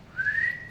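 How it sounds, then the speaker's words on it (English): A person whistles a single short, clear rising note, brief and close, with no talking over it. "Can you whistle?"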